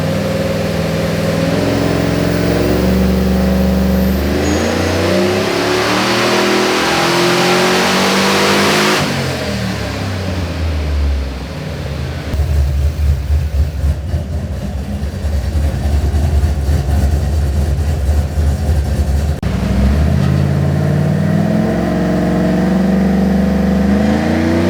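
A Pontiac G8 and a Chevrolet Silverado engine on a dyno for tuning, loud sustained revving that climbs and falls through several pulls, with idle-like stretches between, close and steady with no talk.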